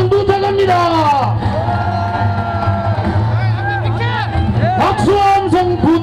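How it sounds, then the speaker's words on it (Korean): Large outdoor rally of about ten thousand people in Pohang calling for a special earthquake law, with a loud continuous crowd roar, whoops and shouts over an amplified voice. Cheering swells and stays dense throughout. "여러분 박수와 함성 부탁합니다"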